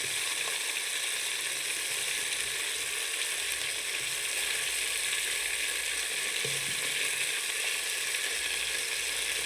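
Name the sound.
fish frying in a rice cooker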